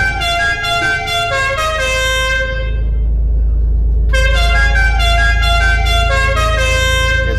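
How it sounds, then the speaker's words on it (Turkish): A loud truck air horn in Euro Truck Simulator 2 blares in long sustained blasts with a brief break in the middle, over a heavy low engine rumble. "bu korna sana gelsin Murat abi."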